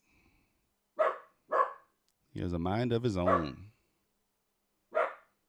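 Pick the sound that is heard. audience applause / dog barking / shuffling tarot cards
dog barking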